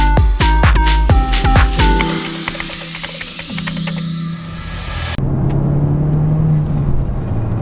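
A Honda Civic Type-R engine revs hard through several quick gear changes, then settles into a steady droning cruise with road roar, loud and close.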